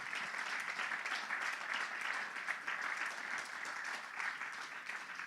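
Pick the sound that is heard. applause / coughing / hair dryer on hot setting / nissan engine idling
applause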